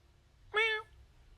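A single short, clear cat meow rising and falling in pitch, close and loud against a quiet background, with no other sounds.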